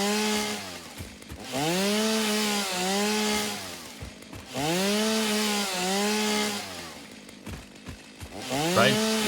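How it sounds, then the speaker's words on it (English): Chainsaw in the Satisfactory video game revving in repeated long bursts, each rising and falling in pitch, loud and close with brief drops between cycles. "The chainsaw is a good example of why you should have multiple versions of one sound"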